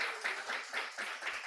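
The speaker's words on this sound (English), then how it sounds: "One more round of applause." An audience at a season-finale recap event gives a round of applause, a brief, moderately distant wash of clapping that rises and falls in soft waves.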